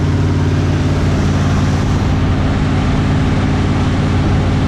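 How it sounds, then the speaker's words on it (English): A 1972 Dodge D100 pickup engine idles steadily with a deep, even low rumble, loud and continuous with no voices over it. "It idled down."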